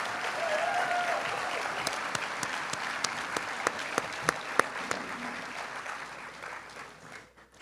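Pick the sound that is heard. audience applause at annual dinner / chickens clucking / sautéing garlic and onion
audience applause at annual dinner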